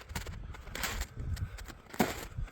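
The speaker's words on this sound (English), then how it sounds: "Sorry for the noise, the snow is very crunchy this morning." Footsteps crunch on frozen snow on a morning of about -7°C in BC, giving irregular, brittle crunches close to the mic with a short pause between strides.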